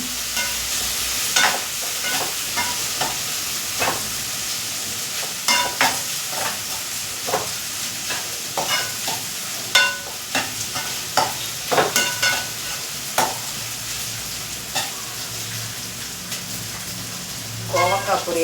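Kovakkai poriyal, an ivy gourd stir-fry, sizzles in a pan while a spatula scrapes and stirs it in repeated clicking strokes. The sound is close and steady and runs for the whole clip, with no talking over it.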